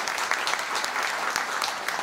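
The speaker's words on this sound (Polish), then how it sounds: "tutaj brawa specjalne" An audience claps steadily for pianist Krzysztof Paszek, a dense, even round of applause that runs throughout.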